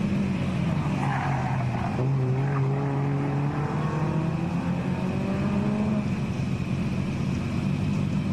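Nissan R32 GTST four-door with a highly modified, stroked RB20 engine and HKS turbo at a drift meet, a loud continuous engine drone with rising revs and a steady high whine, no talk over it.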